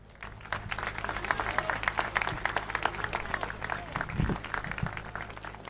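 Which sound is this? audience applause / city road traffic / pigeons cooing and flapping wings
audience applause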